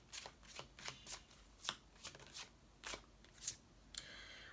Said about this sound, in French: on va prendre une carte de cet oracle sentimental